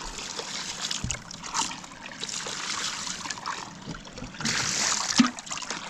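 Water pours and trickles while a gold sluice mat is rinsed into a pan beside the Fraser River, a steady splashing wash with a few small knocks.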